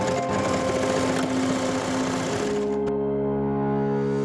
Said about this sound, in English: I use an overlocker on the collar